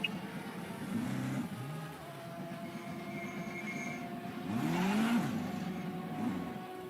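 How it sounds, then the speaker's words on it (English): Pace car at the Glasbachrennen round of the European Hill Climb Championship, its engine rising and falling as it drives out, a steady mechanical drone swelling to a louder pass near the middle before easing off. "John is out, as you can hear, with the pace car"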